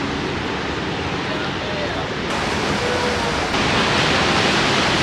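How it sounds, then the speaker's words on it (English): Big ocean waves breaking at Bondi Beach, a dense, steady roar of surf that swells louder toward the end, heard close with wind across the microphone. "the waves are just really big"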